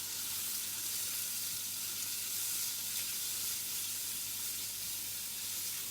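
Garlic, onion and leeks fry for a stir fry, a steady dense sizzle that holds evenly close and loud throughout with no talk over it.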